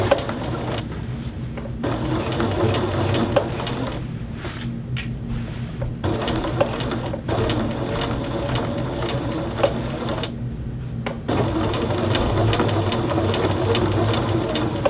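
A domestic sewing machine stitches a welt seam on a men's shirt, running in bursts of rapid mechanical whirring with brief pauses between runs.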